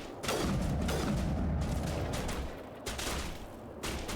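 Heavy overlapping gunfire from snipers and enemies in a Mass Effect firefight, loud and continuous with booming impacts and brief dips between volleys.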